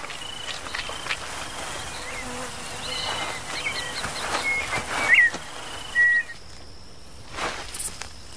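Swarm of winged termites in the Brazilian wild during a brief feeding frenzy by giant anteaters, heard as a steady insect buzz and whir across the whole stretch, with a few brief chirps and soft rustles near the end.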